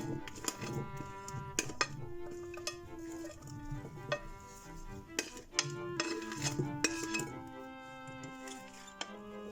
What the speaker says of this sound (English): I'm going to mix everything together in a salad bowl and then season it.